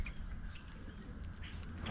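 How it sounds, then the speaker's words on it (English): Birds call at a backyard feeder, soft quacking and chattering calls scattered over a steady outdoor hiss, faint and somewhat distant with no talk. "Listen to the sounds of the birds."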